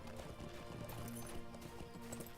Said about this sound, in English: I'm following you on my horsey.